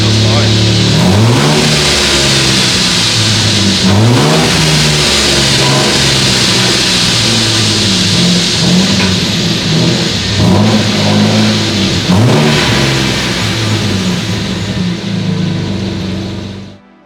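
A barn-find Ford EF Falcon XR6 on its first drive, engine loudly climbing through several revs and gear changes, close and continuous, before cutting off near the end, with voices in the cabin.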